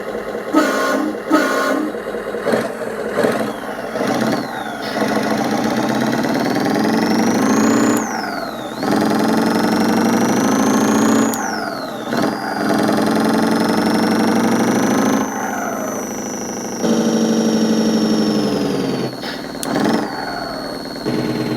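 Simulated Scania V8 open-pipe truck engine from an ESP32 Arduino RC sound controller, loud and alone, revving up and down in long rising sweeps with short cuts between, opening with a few quick honks.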